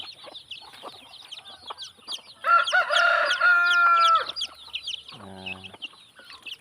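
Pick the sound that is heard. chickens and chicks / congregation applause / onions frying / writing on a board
chickens and chicks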